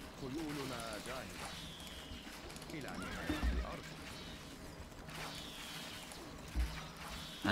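Stronghold Crusader HD strategy game audio: horses whinny and neigh amid clip-clopping hooves and soft mechanical clatter, with a few sharp low thumps, quiet and busy in the background.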